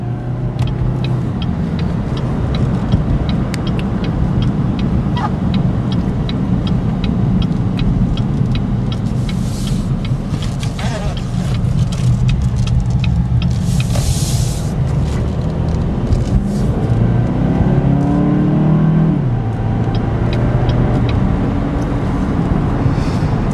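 A 2014 Cadillac CTS 2.0 Turbo AWD cruising at 60 mph, salvage-rebuilt, heard from inside as a loud, steady road and engine drone with tire roar and occasional faint clicks.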